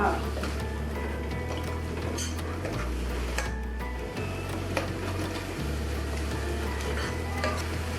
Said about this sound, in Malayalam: ഇതിലോട്ടിട്ട് നമ്മൾ ഇളക്കുകയാണ്